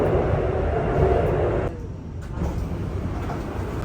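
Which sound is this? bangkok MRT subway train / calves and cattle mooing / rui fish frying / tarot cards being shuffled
bangkok MRT subway train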